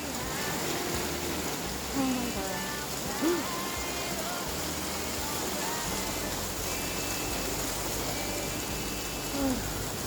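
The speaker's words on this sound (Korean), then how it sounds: "우박이 와요, 막 갑자기." Sudden hail falling on a sailing yacht: a dense, continuous rattle and hiss of ice pellets striking the boat, loud and unbroken, with a few faint voice fragments rising briefly over it.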